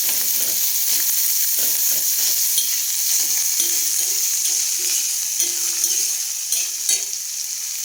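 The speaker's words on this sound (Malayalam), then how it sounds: "സവാള ഇട്ട് കൊടുക്കാം മരുന്നിട്ട് നന്നായിട്ടൊന്ന് മുഴക്കിയെടുക്കാം" Sliced onions fry with spice powder in a hot pan: constant bright sizzling, punctuated by irregular scraping and clacking from a stirring spoon.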